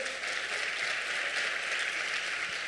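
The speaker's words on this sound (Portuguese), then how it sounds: "vamos dar um aplauso a esse Deus maravilhoso" A church congregation applauds, a dense, even wash of many hands clapping throughout, moderately loud and without talk.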